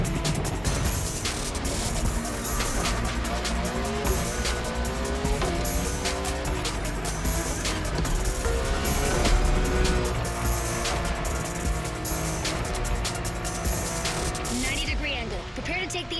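Car drifting through a long turn sequence in The Crew Motorfest video game, with a steady roaring engine and tire squeal filling the whole stretch, loud and constant, while a voice talks over it.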